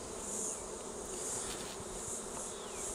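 A honey bee colony at a flow hive buzzes in a dense, continuous drone with individual bees whining past close by, steady and moderately loud throughout.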